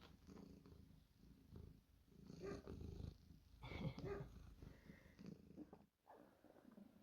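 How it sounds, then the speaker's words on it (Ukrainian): A cat purrs softly and close up, a low rhythmic rumble rising and falling with its breathing, very quiet overall. "Муркоти чуєте?"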